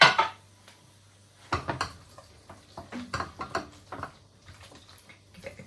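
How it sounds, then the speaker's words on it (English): Egg and cheese are stirred into hot pasta carbonara in a pan, giving scattered clinks and scrapes of a utensil against the pan with soft wet movement between them and no talking. "You add the uncooked egg and cheese and you stir it, and it should cook from just the heat of the pasta."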